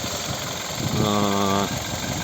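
A 2008 Skoda Roomster Scout's 1.6 MPI 16-valve petrol engine, running on petrol or gas with an automatic gearbox, idles with a steady mid-pitched hum and a short rise in tone partway through.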